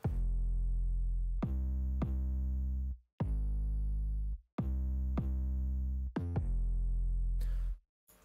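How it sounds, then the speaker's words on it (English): A deep, distorted 808 bass from a trap beat plays alone in long sustained notes with sharp attacks, a loose rhythm of held tones separated by short gaps. "the bass 808 which sounds like this on its own"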